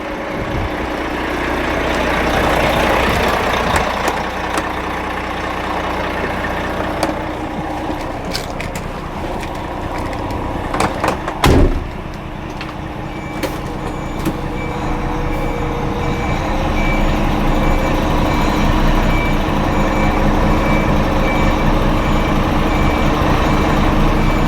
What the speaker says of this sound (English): I'm going to get back into the cab, and I'm going to push the vehicle back into its position.